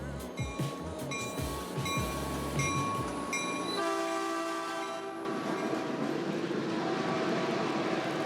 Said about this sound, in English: I don't know if this is my train.